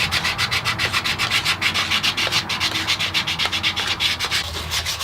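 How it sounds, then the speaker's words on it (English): Sandpaper rounding over the edges of small wooden pencil holders, rapid rhythmic back-and-forth rubbing strokes, close and fairly loud, about four strokes a second and continuing throughout with no talk. "If any edge feels sharp, we'll just round it over a little bit with the sandpaper"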